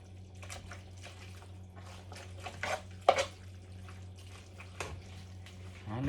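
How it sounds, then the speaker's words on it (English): A spoon stirs sauce with chunks of meat into pasta in a steaming pot, giving soft wet scraping and sloshing with a few louder knocks against the pot, close and fairly quiet. "all I'm doing is just stirring it in so it'll get all into the pasta"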